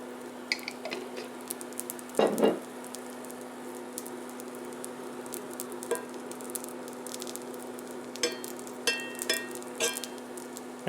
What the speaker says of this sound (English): don't worry about the like loud sizzling sounds